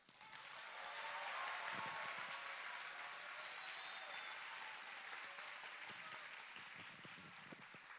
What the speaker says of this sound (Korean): 우리 박수 한번 세게 한 번 더 치고 갑시다.